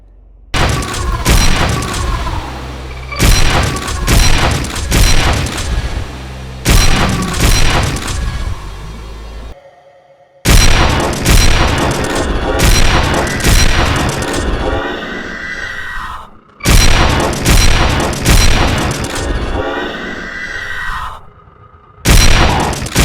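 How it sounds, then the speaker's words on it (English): A rotary shotgun in the Doom mod Shrine blasts repeatedly in loud, beefy booming bursts, several shots in rapid clusters with short pauses and one near-silent gap between volleys. "a rotary shotgun that can shoot 1 or 5 shells at once, which has an exceptionally beefy sound effect"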